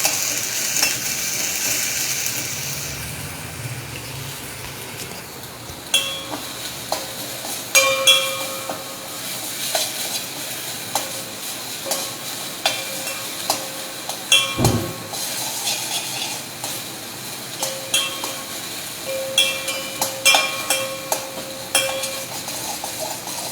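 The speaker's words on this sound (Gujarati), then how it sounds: "આ બધું સારી રીતે ફ્રાય કરી લેશું." Food fries and sizzles steadily in a pan, with a constant hiss under frequent clinks and scrapes of a utensil stirring, close and moderately loud.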